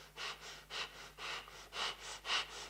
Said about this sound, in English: stop breathing like that